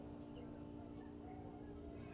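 A cricket chirps loudly inside a store, five evenly spaced, shrill buzzing trills repeating close by against a quiet room with no talk.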